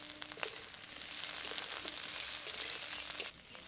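Onions fry in a pan for onion pickle, giving a steady soft sizzle with faint scraping as they are stirred gently throughout, then stopping abruptly near the end.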